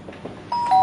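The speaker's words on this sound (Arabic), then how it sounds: "جرس." An electronic doorbell chimes briefly at close range, two bright tones sounding in quick succession after a few soft indoor knocks.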